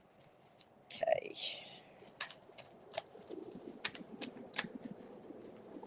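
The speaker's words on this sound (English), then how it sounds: "I'm shuffling these cards again because we're going through these cards rather fast." Tarot cards are shuffled in a series of soft, crisp riffling and tapping bursts at close range, with a quiet voice murmuring underneath.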